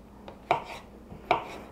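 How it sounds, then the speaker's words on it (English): Raw bacon sliced into bite-sized pieces with a knife for carbonara: a few sharp, close knife strokes against a board, two stronger cuts spaced under a second apart with lighter taps between, no talking. "if you're using raw bacon, that's fine. Just slice it up like I am."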